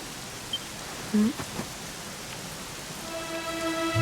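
Steady rain falls in the Dragon Quest XI video game, a soft even hiss of drops with a few faint game tones near the end and no voices.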